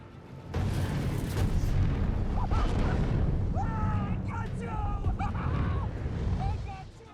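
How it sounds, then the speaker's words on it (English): A film explosion in a Batman chase scene, with a deep booming blast rising suddenly and rolling on as a loud sustained rumble, mixed with overlapping voices and shouts. "At one point, Penguin causes an explosion and celebrates,"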